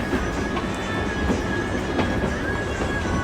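A Kalka-Shimla toy train, a narrow-gauge mountain railway, rolls along its track with a loud, continuous rumble, light rhythmic wheel clatter and a thin squealing tone heard from on board.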